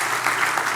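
Congregation at a Christian church meeting applauding, a dense, steady clatter of many hands clapping together that fills the whole brief moment.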